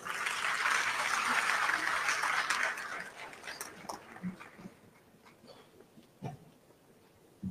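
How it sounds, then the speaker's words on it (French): An audience at a tripartite union–government meeting applauding Labour Minister Abbas Fall: a full burst of clapping for about three seconds that then fades into scattered, isolated claps and faint room noise. "Sous vos applaudissements, s'il vous plaît."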